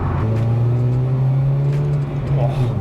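Upgraded Vauxhall Corsa engine accelerating on the road, a loud, steady droning hum that climbs slightly in pitch, heard from inside the car while someone talks.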